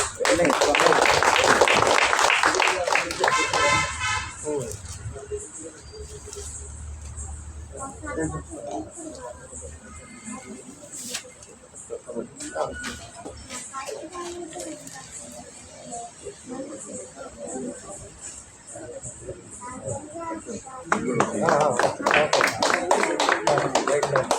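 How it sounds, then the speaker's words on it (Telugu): Audience clapping at a felicitation ceremony where a couple is honored with a shawl, bursts of applause at the start and end around announcer speech over a loudspeaker. "క్లాప్స్."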